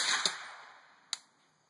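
A 300 Blackout rifle fires 125 grain Spitzer rounds through a suppressor, giving two sharp, fairly faint cracks about a second apart, each with a short fading tail.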